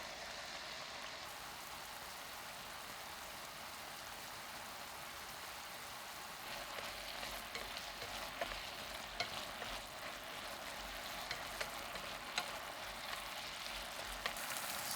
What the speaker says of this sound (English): add egg and boil it down over medium heat